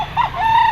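A rooster at a chicken auction market in Lipa gives a short, loud, close crow, under a second long and rising into a sustained note, with little else around it.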